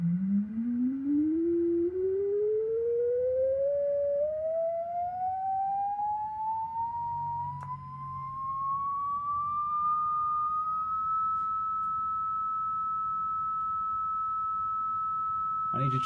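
A pure sine wave tone, generated and displayed on an oscilloscope, sweeps smoothly upward from a low hum to a very high, thin whistle and then holds steady, with faint room noise beneath.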